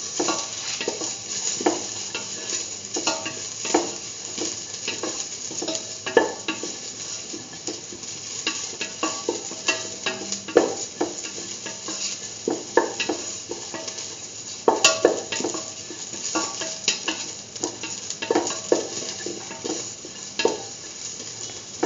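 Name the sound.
sautéing curried lentils in a pan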